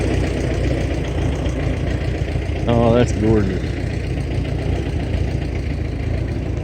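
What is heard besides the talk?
old Oliver tractor engine idling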